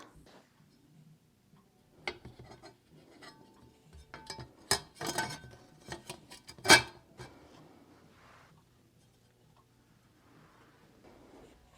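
Glass pane from a thrifted double-sided clock being handled and fitted, giving scattered light clinks, taps and clatters in an irregular run, close and fairly quiet between the sharper knocks, with no talking.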